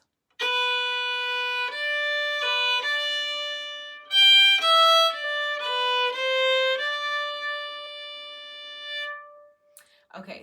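A solo fiddle plays the opening phrase of the old-time tune Shove the Pig's Foot, clear sustained bowed notes in a simple rhythmic line with slurs, close and bright, ending with a brief noise.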